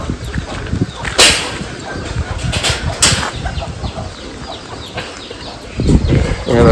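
Sonali chickens crowd a poultry farm house, giving a restless mix of wing flaps, scuffling and scattered clucks, with a few sharp bursts of flapping close by and a voice talking.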